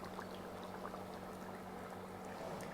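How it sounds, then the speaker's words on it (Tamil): Flour milk being poured into a simmering mackerel and eggplant curry, a steady close bubbling and liquid wash that runs evenly throughout with no talk. "நான் வந்து மாவு பால் ஊற்றுறேன்"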